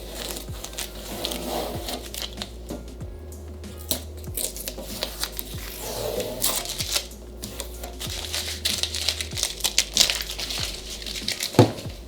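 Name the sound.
peeling masking tape off head/tail lights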